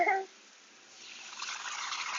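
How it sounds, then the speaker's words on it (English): Wine poured into a hot pan of cooked-down cabbage, a soft liquid splash after a brief louder sound, building into a gentle, steady sizzle and bubbling. "Add the wine."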